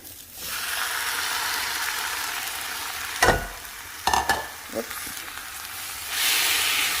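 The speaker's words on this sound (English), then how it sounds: "here I have my tomato and jalapeno going in" Tomato and jalapeno sizzle in a hot pan with bacon, a steady broad frying hiss punctuated by a few sharp stirring scrapes and bursts, rising louder near the end.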